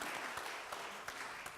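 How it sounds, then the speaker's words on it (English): Faint, scattered audience applause at a museum event in a Native arts pavilion, a short burst of distant clapping with no voices. "let's give them a round of applause"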